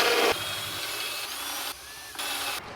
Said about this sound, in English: So first thing's to get the holes drilled for all the wiring to come through